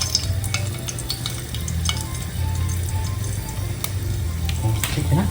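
Tadka for dhaba-style garlic fenugreek (lasuni methi) sizzles steadily and loudly in hot oil, with a low continuous frying hiss and occasional light clinks of stirring, no voices.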